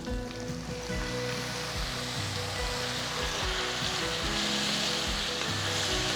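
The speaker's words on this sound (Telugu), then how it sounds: "నెక్స్ట్ నేను దీంట్లో ఆరు చిన్న టొమాటోలు ఇట్లా బాగా సన్నగా తరిగి వేస్తున్నాను" Finely chopped small tomatoes sizzle steadily in a hot pan, a loud, continuous frying hiss with occasional crackles, close and alone with no talk.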